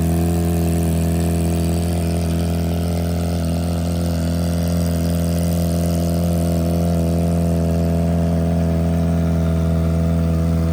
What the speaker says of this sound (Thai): เสียงเครื่อง เสียงท่ออย่างโหด